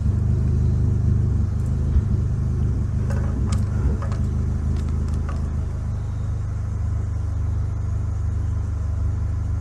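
A remapped Ford Fiesta Zetec S mk7 with a naturally aspirated engine runs on a dyno, giving a steady, loud low rumble with a brief rise in revs partway through.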